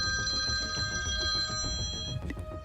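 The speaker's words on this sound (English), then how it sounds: "His phone rang." Telephone bell ringing indoors, a bright repeated trilling ring with sustained tones, fairly quiet and heard alone for a few seconds.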